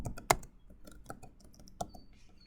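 Quick keystrokes on a computer keyboard tapping out a short word, with a few sharper clicks among lighter taps, close and quiet with no talking.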